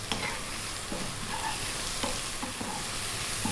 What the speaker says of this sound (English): we're going to just stir this in for around 60 seconds or so